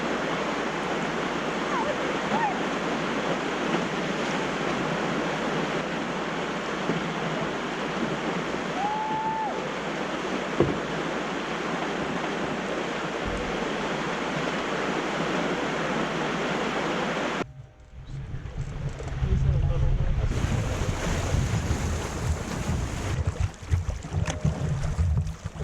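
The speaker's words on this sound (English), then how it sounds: "we made it to the waterfall" A waterfall on the Bowron Lake canoe circuit roars as a dense, steady rush for most of the stretch, then a sudden change to a lower, rougher, closer wash of water noise near the end.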